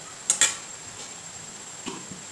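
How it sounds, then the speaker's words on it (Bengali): A lid clanks down onto a metal pot of Bengali vegetable curry with potatoes and stalks, two sharp close clinks followed by a softer knock, over a low steady kitchen hiss. "এবার একটু ঢাকা দিয়ে দেবো"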